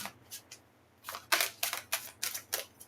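A deck of tarot-style cards is shuffled by hand in a series of quick, crisp riffles and flicks, about nine short bursts close to the microphone in a quiet room.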